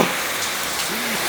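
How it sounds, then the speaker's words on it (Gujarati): Steady, dense rain hisses loudly on a surface nearby, a constant wash of drops with no voices. "આ વરસાદનો અવાજ આવ્યો"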